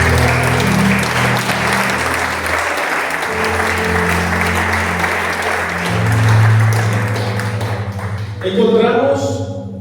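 A church congregation claps loudly and continuously in praise of the Lord, the applause mixed with sustained tones from music underneath and voices, swelling briefly near the end.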